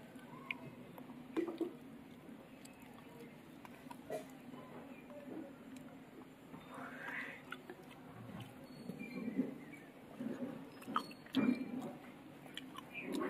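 Someone eating rui fish curry cooked with green tomato makes soft, faint, wet chewing sounds with occasional small clicks, close to the microphone, while a voice talks quietly at times.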